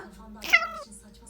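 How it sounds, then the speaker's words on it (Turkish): A cat gives a single short meow, close and clear, against a quiet room. "Burada bir kedi var."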